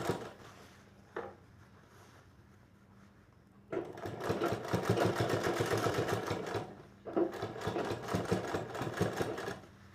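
Sewing machine stitching a collar onto an apron: a quiet start, then two close, rapid bursts of rhythmic mechanical clatter separated by a short pause, with no talk.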